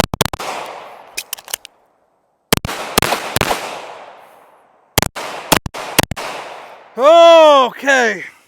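Handgun rounds fired at a 10-yard target in a timed drill. Loud, sharp shots come in separate quick clusters with short silent gaps for reloading, followed by a brief voiced sound at the end.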